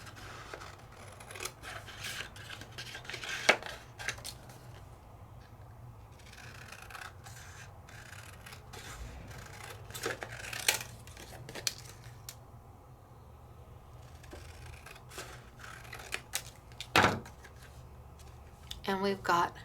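Paper stencil trimmed out freehand with scissors, giving soft irregular snips and rasping cuts with rustling handling, fairly close, under intermittent talk.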